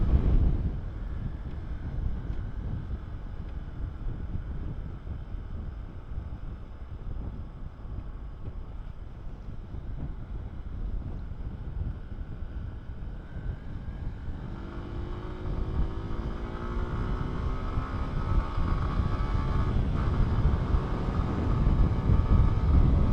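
Wind roars across the microphone while riding a Lexmoto ZSB 125 motorcycle, a steady loud buffeting throughout, with the engine's tone rising in pitch partway through as the bike accelerates.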